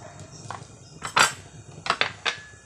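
Chicken salad being mixed in a bowl, with seasoning powder poured in. Utensils clink and scrape against the dish in several short, close bursts.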